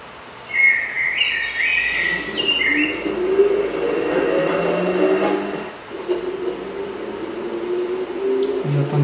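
A metro train rolls past in the city-building game Traffic Giant, a steady rumble with a rising whine that swells after the first second and holds to the end, mixed with high chirping game ambience and no talk.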